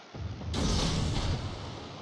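A Kagero destroyer fires its naval guns in World of Warships, a single heavy boom that swells and rolls on for over a second before slowly fading.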